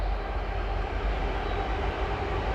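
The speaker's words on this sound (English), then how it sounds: "because I can hear the train now behind us." A train crosses a railway bridge behind the listener, giving a steady, loud, continuous rumble and rattle that fills the whole moment with no talk over it.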